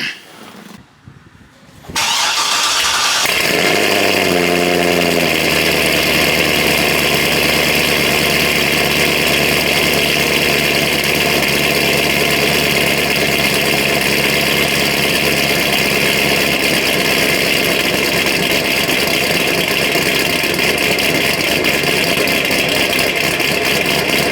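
A Chevrolet Corvette C6 cold-starts after sitting a long time: a short crank catches into a loud roar, then settles into a steady, heavy, droning idle that runs on close by.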